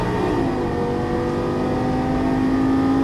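A Lamborghini Gallardo LP-550 shifts up and pulls hard, its engine droning steadily with a rising whine heard from inside the cabin, a continuous and fairly loud sound with no one speaking.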